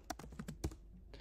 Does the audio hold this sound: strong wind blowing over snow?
no